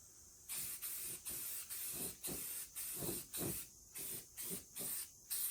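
Short bursts of sandable 2-in-1 primer hiss from a spray can onto a 1956 Chevy truck firewall, about a dozen quick close sprays with brief pauses between them.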